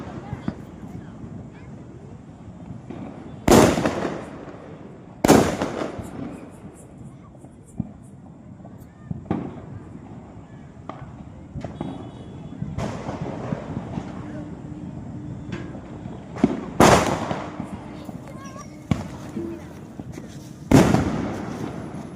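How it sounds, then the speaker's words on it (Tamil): Diwali firecrackers burst in several loud, sharp bangs spaced seconds apart, with voices and wind noise between them outdoors. "அவங்க வச்ச வெடி எவ்வளவு சூப்பரா வச்சிச்சு."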